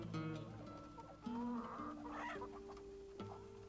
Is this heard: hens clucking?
yes